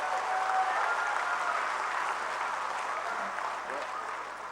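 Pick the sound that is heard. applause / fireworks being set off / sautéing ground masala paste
applause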